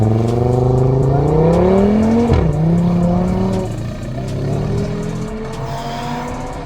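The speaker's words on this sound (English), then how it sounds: "I hear 5 cylinders." A five-cylinder car engine revs hard and accelerates nearby on the Stelvio mountain pass, pitch climbing through gear changes, with a brief tire squeal before settling into a steady drone.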